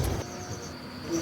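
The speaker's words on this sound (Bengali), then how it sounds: "জঙ্গলে সন্ধে নামার সাথে সাথে কান ফাটানো ঝিঝি পোকার ডাক" Crickets chirp with a steady, thin trill in the background at dusk in a jungle in the Dooars. It is a continuous, quiet outdoor drone.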